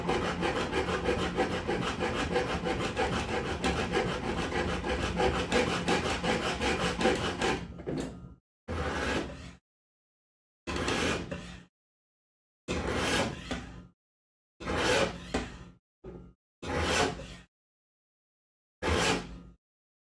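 A knife blade is ground at the plunge cut. A long steady grinding run gives way to several short separated bursts with silent gaps between them, all loud and close, with no talking.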